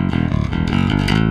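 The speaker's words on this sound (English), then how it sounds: "Let's try the other one," A bass guitar played through the bridge pickup with a clanky metal tone sounds a short run of dense, distorted notes, loud and without accompaniment.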